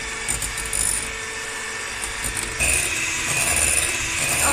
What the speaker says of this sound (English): we're gonna now mix this with the electric mixer for about 2 to 3 minutes